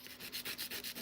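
Acrylic nail extensions being filed by hand, a quick series of about six soft rhythmic rasping strokes, close and quiet, with no talk.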